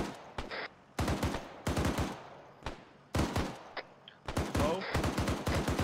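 A .50 cal machine gun in Arma 3 hammers out several loud, close bursts of heavy automatic fire, each a quick run of booming shots separated by short pauses.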